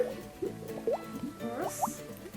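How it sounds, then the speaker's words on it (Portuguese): Water poured little by little into a homemade playdough mixture, giving soft, close wet drips and squishy plops at irregular intervals, quiet and with no talking. "Agora a gente vai colocar água aos poucos."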